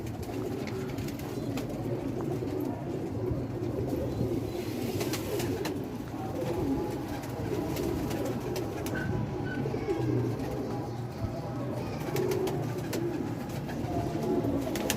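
Pigeons cooing steadily through a constant low background hum, with soft repeated coos at moderate distance and occasional faint chirps, no talking.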